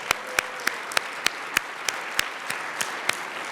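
A small audience in a chapel claps in a steady unison rhythm, roughly a dozen sharp, evenly spaced claps ringing out clearly with no voices.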